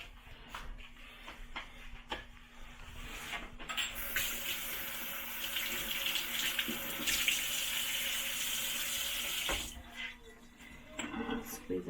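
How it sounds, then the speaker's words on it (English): A kitchen tap runs hard over herb leaves in a sink, a steady splashing stream lasting several seconds in the middle, bracketed by handling noises and short rustles of the wet leaves. "And then we're going to give this a quick rinse."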